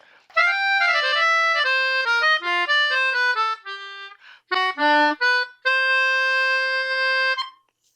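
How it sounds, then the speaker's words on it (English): A Hohner melodica plays a bright, reedy melody of sustained and stepping notes, close and loud, with a short break before the final long-held chord. "this Hohner melodica,"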